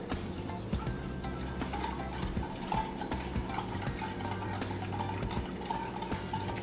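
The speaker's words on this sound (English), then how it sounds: "now we're gonna whisk this all together" Vanilla ice cream mixture is whisked together in a bowl, the whisk clattering in a steady, continuous scraping rhythm against the sides, close and fairly quiet.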